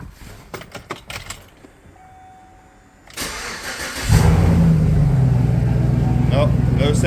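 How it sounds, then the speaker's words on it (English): A 2007 Chevrolet Tahoe 5.3 V8 fitted with a cold air intake is started cold, with keys jangling and the starter whirring before the engine catches and settles into a loud, steady idle, heard up close. "We'll go ahead and do a cold start real quick."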